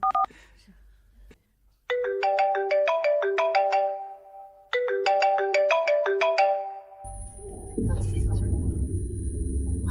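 An incoming-call phone ringtone plays a bright repeating melodic jingle in two loud bursts, followed by a low rumbling swell, with no talk during the ringing.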